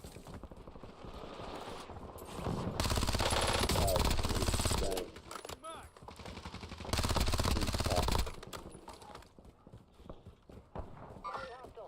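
Automatic gunfire from a 36-round VX rifle in the Warzone battle royale game, fired in two sustained bursts of roughly two seconds each, loud and rattling, with a player talking between them.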